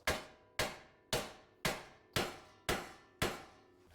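Seven sharp hammer taps strike a 19 mm bolt on a 2008-2012 Honda Accord wheel hub during wheel bearing replacement, evenly spaced about half a second apart, each a bright metallic knock with a quick decay, close and loud.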